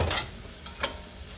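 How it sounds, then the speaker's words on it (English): Pork sizzles steadily as it is stir-fried in a hot pan over medium heat, with a few sharp scraping stirs cutting through the frying hiss, close and fairly loud. "Stir frying that baby."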